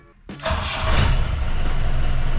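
A Mahindra diesel vehicle engine cranks briefly and catches on the first try, then settles into a loud, steady, rumbling idle close by, with no talk.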